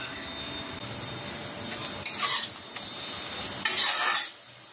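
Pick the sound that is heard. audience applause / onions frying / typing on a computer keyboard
onions frying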